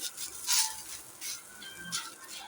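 Ragi (kelvaragu) adai dough patted onto a hot dosa griddle, giving a light, soft sizzle with a few brief crackling surges, fairly close and heard alone.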